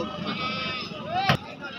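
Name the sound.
goat bleating at a goat market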